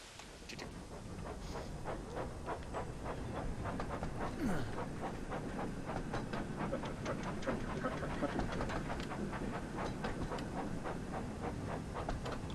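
A train rumbles steadily in a train video game, with a dense continuous roar and regular clacking pulses over the track, loud and close, with no voices.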